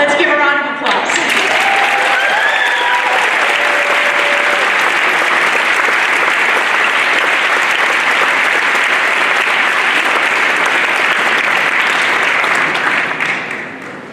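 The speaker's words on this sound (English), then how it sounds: "Let's give a round of applause." Sustained audience applause at a community storytelling evening, loud and dense for about thirteen seconds before tapering off, with a brief voice at the very start.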